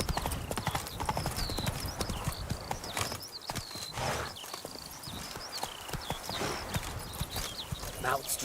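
Steady galloping hoofbeats from a horse in The Witcher 3, close and continuous, with game music and ambience layered over them.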